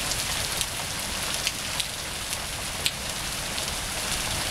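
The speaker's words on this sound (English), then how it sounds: "at least the rain's painting our car" Rain falls on a car roof and windshield during a storm with a funnel cloud in Monroe, Michigan, a steady close hiss with scattered sharper drop taps, alone without talk.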